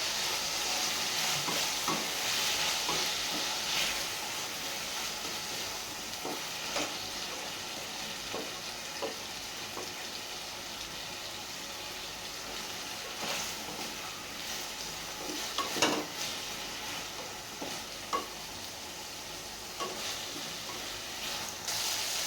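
Tomatoes with a little salt fry in a pan, a steady close sizzle crackling all the way through while a utensil stirs and scrapes at irregular moments, and no one speaks.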